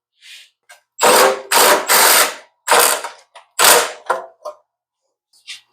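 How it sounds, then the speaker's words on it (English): A hand ratchet clicks in short, sharp bursts, close and loud, as a fuel tank is bolted onto the underside of an MTD tiller. Quiet pauses separate the bursts. "Now we'll bolt our tank back up on the bottom."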